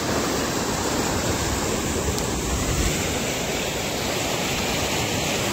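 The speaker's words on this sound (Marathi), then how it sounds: "पाण्याचा प्रवाह बघा." A stream rushing past a resort in rural Maharashtra, a steady, loud wash of flowing water that fills the whole stretch with no breaks and no voices.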